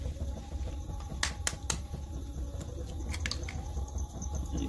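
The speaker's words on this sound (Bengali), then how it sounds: "ডিমগুলো আস্তে আস্তে যে বাটি আছে বাটির মধ্যে দিয়ে দেবো" Three eggs cracked one at a time into a bowl for egg chowmein, giving a few sharp, close clicks and taps over a low steady kitchen background, with no talking.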